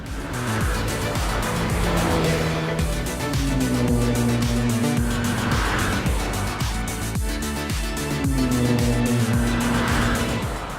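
A restyled Alfa Romeo Giulia with a 2-litre diesel engine and Q4 all-wheel drive is driven hard. The engine note climbs repeatedly and drops at each gear change, loud and close, with tyre noise and no voices.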